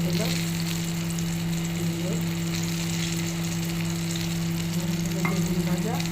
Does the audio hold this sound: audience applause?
no